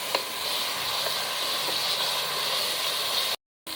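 Spice paste with green chillies sizzling and hissing steadily in a pan while being fried down for Noakhali-style taro leaf bhaji, a continuous close frying sound with faint stirring scrapes and a brief dropout near the end.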